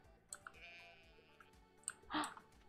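A sheep in a farming video game lets out a faint, quavering bleat amid soft clicks and small game noises.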